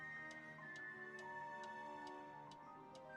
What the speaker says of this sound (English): No, that's the alarm clock.